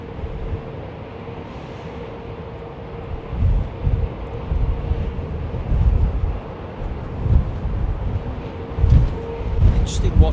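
An airliner takes off at London Heathrow Airport: a broad, rumbling jet roar swells and surges in waves, with wind buffeting the microphone.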